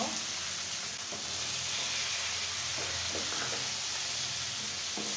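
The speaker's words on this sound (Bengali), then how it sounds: "আমি এখন খুব সুন্দর করে এটা ভেজে নেব।" Food fries steadily in a pan, a continuous sizzle with occasional soft stirring taps throughout, fairly close and with no talking.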